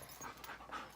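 A Belgian Malinois pants quickly and softly indoors after playing outside, a faint, close breathy rhythm with no voices.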